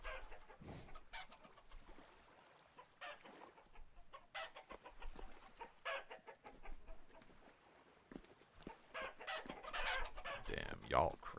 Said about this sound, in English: Okay, hello chickens.